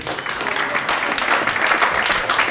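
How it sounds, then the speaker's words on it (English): An audience at a 2000 film press conference claps steadily for about two and a half seconds, a dense continuous burst of many hands at moderate loudness. "Let's hear a round of applause for Lucy, please."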